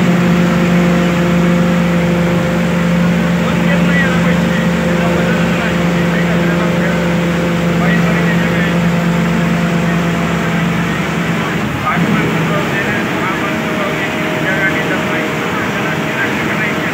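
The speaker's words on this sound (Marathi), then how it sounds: "गाडीच्या इंजिनचा आवाज फक्त बघा कशी गाडी चांगली चालत्या." MSRTC Lalpari bus engine droning steadily while driving, a continuous loud low hum with a constant pitch and road rumble throughout, shifting slightly near the twelve-second mark.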